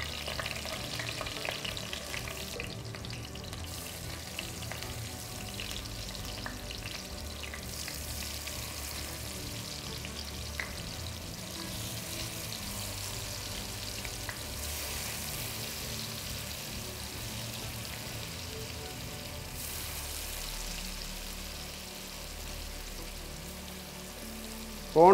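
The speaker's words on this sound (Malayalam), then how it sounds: "നമുക്ക് ഇതിലേക്ക് ടൈഗർ പ്രോൺസ് അങ്ങ് വെച്ച് കൊടുക്കാം" Tiger prawns fry in hot coconut oil with curry leaves, a steady close sizzle and crackle running unbroken throughout at a moderate level.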